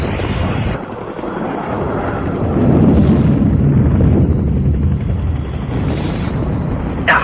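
A helicopter roars close and loud, with a continuous rotor and engine drone that swells midway, as a sound effect in the Airwolf radio play.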